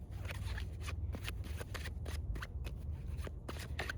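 Playing cards being shuffled and drawn for a spirit card reading, a run of crisp riffling flutters and short snaps close up, with no voices.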